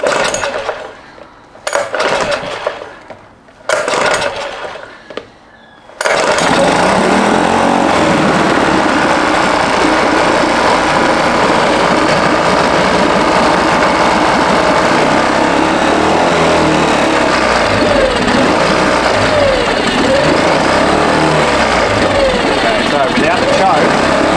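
A Yamaha outboard motor is pull-started with several short cord yanks, then catches and keeps running at a loud, steady, close buzz.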